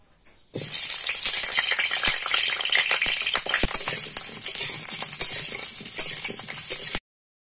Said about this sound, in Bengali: এবার মাংসের জন্য আলু ভেজে নেব